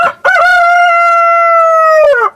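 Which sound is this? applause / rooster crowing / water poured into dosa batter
rooster crowing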